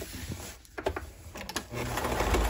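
A sewing machine stitching banana leaf placemats runs in bursts, its rapid mechanical whirring starting and stopping with brief pauses as the fabric is pivoted, then running steadily and loudly up close.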